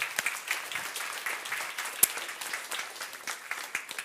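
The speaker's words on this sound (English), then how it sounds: "Can we give a warm applause to Ms." A conference audience at a panel on food security and climate applauds, a fairly faint but steady patter of many hands clapping throughout, with one sharper clap standing out midway.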